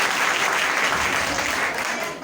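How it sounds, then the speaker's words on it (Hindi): An audience at a coaching centre function claps loudly and steadily for the teachers, a thick continuous wash of many hands that tapers slightly at the end. "एक बार जोरदार तालियां बजाने के लिए सभी सर के लिए"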